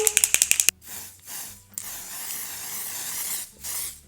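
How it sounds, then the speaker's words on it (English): An Airflash Radiant Mist aerosol setting spray can is shaken, with a fast run of about seven sharp mixing-ball rattles. Then come several close, loud hissing bursts of mist, separated by short pauses, with no talking. "Now let's go with the OG, the Airflash Radiant Mist. Shaking it well."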